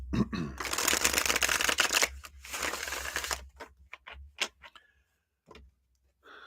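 A deck of tarot cards being shuffled up close, with a dense riffling burst, a brief pause, then a second shuffle, followed by a few light card taps and a voice speaking briefly.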